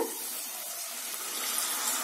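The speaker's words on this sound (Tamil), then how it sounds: "இந்த அளவுக்கு ஆனதுக்கு அப்புறமா இது கூட கொஞ்சமா தண்ணி சேர்த்துடுங்க." Water goes into a pan of frying masala for an egg pepper fry, bringing a steady broadband hiss and sizzle that holds evenly for a couple of seconds with no talk.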